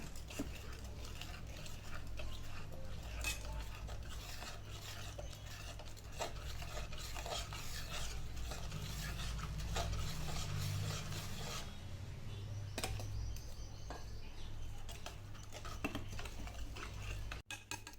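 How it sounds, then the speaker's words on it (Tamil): A thickening milk mixture for kulfi is stirred in a pan over low heat, a continuous scraping and rubbing of a spoon against metal with a low steady hum beneath and no talking. "கெட்டியாகிற வரைக்கும் கிளறி விட்டுக்கிட்டே இருப்போம்."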